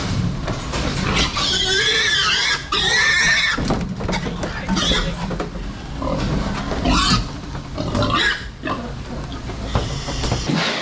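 Pigs squeal and grunt loudly and almost continuously while being loaded and sorted with a sort board, harsh shrieks overlapping with knocks and shuffling, close and busy.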